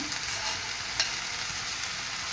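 Egg frying with salt over a low flame hisses softly in the pan, and a single sharp utensil scrape cuts through the quiet, even sizzle.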